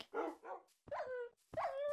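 Dog in the Minecraft video game barking, with three short separate yaps spread evenly apart, each clear and close against silence, with no talk.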